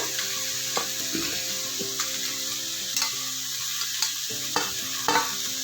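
Mixed vegetables frying and sizzling in a pan as chopped chayote goes in, with repeated close scraping and knocking of a spoon stirring, a steady hiss beneath and no voices.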